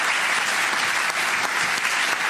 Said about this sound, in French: qu'on les applaudisse très chaleureusement